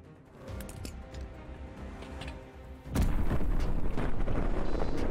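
A grenade goes off in the video game Call of Duty Vanguard. A dull rumbling lead-in is followed by a loud, sustained blast that fills the rest of the clip.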